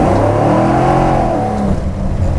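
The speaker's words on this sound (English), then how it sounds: "she just tears the drag radials loose. Just full on spins them." A 598ci big-block Chevy Nova roars at high revs as its drag radials break loose and spin, a loud, sustained engine howl with a wavering pitch close by.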